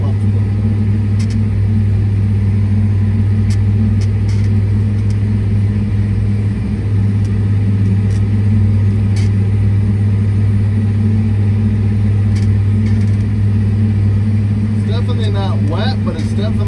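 A John Deere 9560R tractor pulls a Kuhn Dominator tillage implement through wet manure and triticale sod, its engine a loud, constant low drone from inside the cab while someone talks over it.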